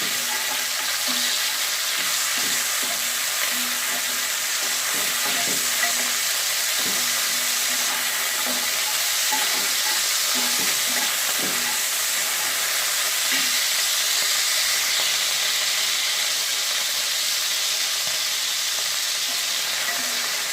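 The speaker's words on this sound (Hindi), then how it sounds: "इसमें चिकन शामिल करना है और चिकन को अच्छी तरह से फ्राई करना है।" Chicken frying in hot oil in a pan for chowmein gives a steady, even sizzle and hiss from close by, with faint occasional clicks of stirring and no talk.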